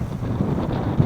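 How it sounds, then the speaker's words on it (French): Strong wind of about 20 knots with gusts to 30 roars over a heeling sailboat at sea, a steady low rushing buffet against the microphone throughout the brief moment. "Il y a 20 nœuds de vent."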